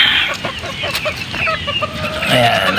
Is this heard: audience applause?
no